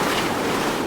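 Strong wind of about 30 to 36 knots roars across the microphone aboard a sailboat off New Caledonia, with a rushing water wash beneath, loud and continuous.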